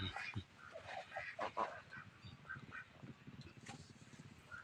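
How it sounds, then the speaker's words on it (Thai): Ducks quack and geese honk in a noisy, overlapping flock, close by, with irregular bursts of calls. "มีทั้งเป็ดทั้งห่านอย่างนี้"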